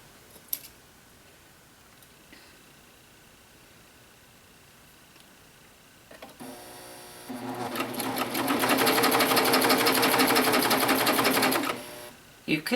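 A cover stitch sewing machine stitches a Grainline Lark Tee, starting after a quiet stretch with a few soft taps, ramping up into a loud, fast, steady mechanical whir for several seconds, then stopping abruptly.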